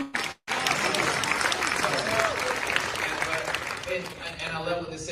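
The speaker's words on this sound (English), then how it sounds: "Another applause for them" Audience applause at a seminar gathering: after a brief silence, a full burst of clapping rises and holds, with voices mixed in and tapering toward the end.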